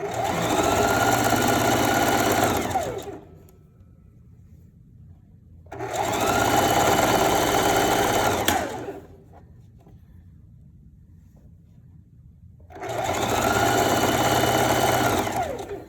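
A sewing machine stitches fabric for a stripper one-piece costume in three steady, loud runs of rapid motor whir, each lasting a few seconds and separated by quiet pauses while the fabric is repositioned.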